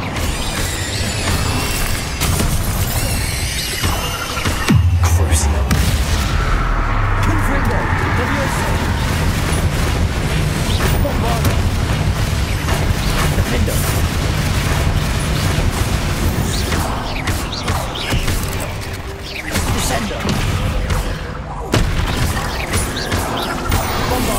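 An Incendio fire spell cast in a video game produces loud, dense blasts and crashing effects that keep going over busy game sounds, with a burst around the middle.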